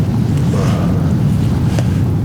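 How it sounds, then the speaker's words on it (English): Strong outdoor wind of about 20 to 25 mph on a cold Montana elk hunt, a steady loud roar and microphone buffeting with no break throughout. "But you had a 20 or 25 mile an hour wind to that."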